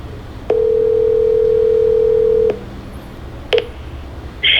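Telephone dialing for a call: a steady tone for about two seconds, then a brief keypad beep and a short higher electronic tone near the end, clear and close.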